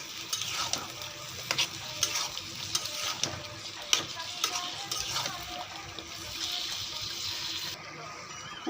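Spices and yogurt sauté in a pan for biryani, sizzling steadily and wetly. Repeated close scrapes and clinks of stirring punctuate it.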